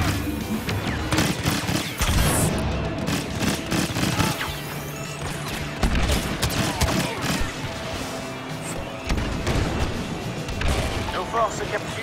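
Grenades burst over and over amid rapid gunfire in the Star Wars Battlefront video game: a dense, loud, continuous barrage of booms and shots with heavy thumps throughout, and voices chatter underneath.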